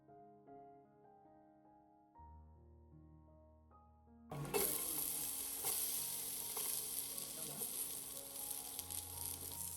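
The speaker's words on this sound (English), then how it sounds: "In a separate pot, add a little oil and heat it over medium flame." Oil heating in a separate pot over a medium flame, a quiet tonal hum giving way to a loud, dense, steady sizzle that fills the rest of the stretch with no voices.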